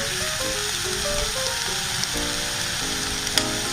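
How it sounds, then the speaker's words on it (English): Chopped white eggplant stir-frying in a pan, a loud dense sizzle throughout with a few faint utensil knocks, and a steady tonal hum in the background. "we're also going to just stir fry it, cook it down"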